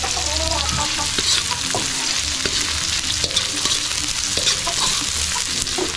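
Ginger sautéed with onion in a hot pan for beef short rib ginataan, a steady close sizzle and frying crackle with repeated spatula scrapes and stirring clatter.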